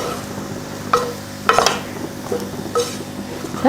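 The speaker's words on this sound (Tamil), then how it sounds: "மிளகாத்தூள் போட்டு கலந்து விட்டாச்சு" Raw plantain pieces are stirred with chili powder in a pan, with several scraping, clinking strokes of a utensil against the metal over a faint, steady sizzle.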